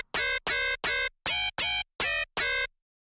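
Hardstyle FM screech synth patch made in FL Studio's Sytrus plays seven bright, buzzy, evenly spaced stabs with short silent gaps, fairly quiet and with no voices, ending in silence.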